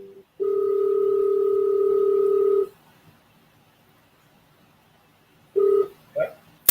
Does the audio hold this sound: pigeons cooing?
no